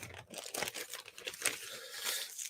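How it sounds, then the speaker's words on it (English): Crinkly plastic bag rustles and crumples up close as MDF building pieces are pulled out, a busy irregular sequence of soft crackles lasting a couple of seconds. "Just taking these out of the nice plastic bag."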